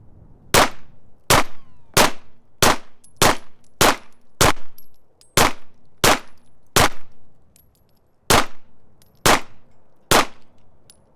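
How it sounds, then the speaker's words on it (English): Five sharp pistol shots from a Ruger RXM fitted with a Glock barrel, loud and close, fired in a steady string with echoing tails, each crack standing alone without talk. "So I'm gonna shoot a 5-shot string at the 7,"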